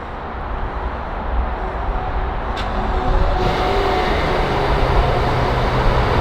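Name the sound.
Rolls-Royce Dawn twin turbo V12 engine starting up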